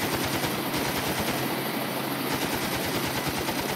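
A UH-60 Black Hawk helicopter in the game Planet Explorers fires its weapons, a loud, dense rattle of rapid gunfire layered over a steady rotor drone, continuous for a few seconds.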